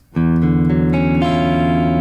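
An electric guitar chord is strummed once and left to ring, its tones sustaining loudly with a couple of subtle changes as it rings out.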